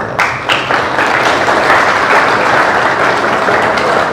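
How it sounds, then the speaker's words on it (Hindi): Loud, dense applause from a large crowd fills the room, sustained steadily throughout after a couple of early claps. "अपने देश के लिए ताली तो बजा सकते हो।"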